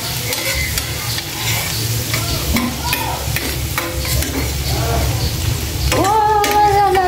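Garlic frying in butter for garlic butter shrimp gives a loud, close, continuous sizzle with busy stirring scrapes, and a sung or hummed voice rises over it near the end.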